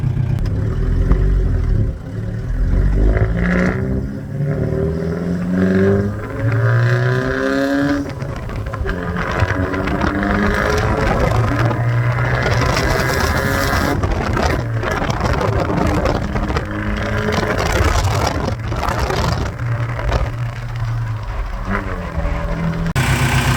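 Diesel engine of a VW Rabbit pickup running steadily, a loud continuous rumble with varying revs and clattery texture throughout, no talking.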